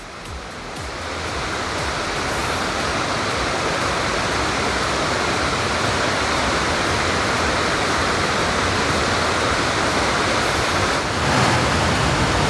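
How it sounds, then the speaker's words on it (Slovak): Small waterfalls rush with a loud, continuous roar of water, steady throughout with no talking. "A ďalšie predvodopády."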